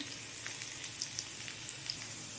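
Onions sizzle in hot oil in a paniyaram pan, with a soft steady crackle and small scattered pops close by.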